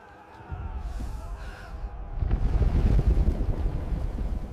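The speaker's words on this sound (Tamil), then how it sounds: "அந்த புயல் பல நாட்கள் தொடர்ந்தது." A windstorm sound effect for a story about a storm that destroyed the towns of the people of Aad in the desert: a steady roaring, gusting wind that swells louder and rougher midway and keeps blowing, with no voices.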